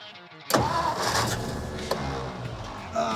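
A Ford truck engine catches after a short crank, then runs in a rough, steady idle with a slight rev bump near the end, close and fairly loud.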